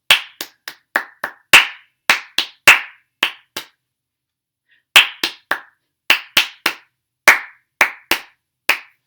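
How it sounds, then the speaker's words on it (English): Sharp hand claps beat out a rhythm exercise in quick bursts, with a short pause partway through before the pattern resumes. Each clap is close and distinct, and there is no talk. "I put an extra clap in there."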